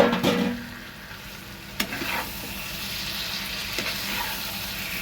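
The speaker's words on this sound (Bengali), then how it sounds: "পটল আলু চিংড়ি মাছটা ওতে কিন্তু একসাথে সবটাই ঢেলে দেব, দিয়ে ভালো করে কষে নেব" Pointed gourd, potato and shrimp stir-fried together in hot oil, a steady low sizzle with a few sharp scrapes and clatters of the spatula against the pan, close and fairly quiet.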